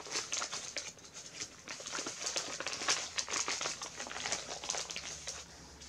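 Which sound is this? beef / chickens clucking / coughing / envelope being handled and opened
envelope being handled and opened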